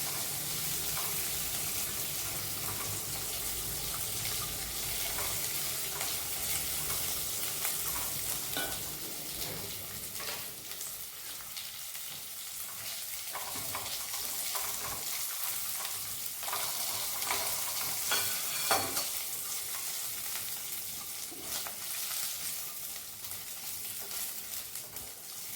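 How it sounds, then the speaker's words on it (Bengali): Cashews and almonds sizzle steadily in ghee while being stirred in the pan, a continuous close frying hiss with scraping strokes of the spoon and no talking. "এবার এটা আমি ভেজে নিয়েছি, নিয়ে এবার ডিশে তুলে নেব।"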